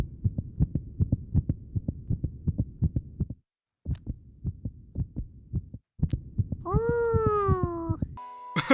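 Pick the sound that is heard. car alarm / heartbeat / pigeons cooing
heartbeat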